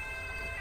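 An ambulance siren in the GTA video game, a steady electronic wail over low engine rumble, brief and fairly loud.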